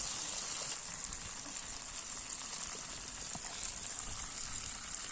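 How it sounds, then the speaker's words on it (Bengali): Vegetables frying with oil and spices in a pan make a steady, close hiss and sizzle throughout, without speech. "তেল মশলার সাথে একসাথে কষিয়ে নেব সবজিটাকে"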